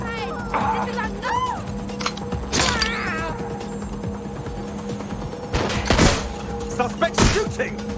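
Gunfire in Watch Dogs Legion: a few sharp, loud shots and impacts ring out at irregular moments over a steady background hum, with game voices talking in between.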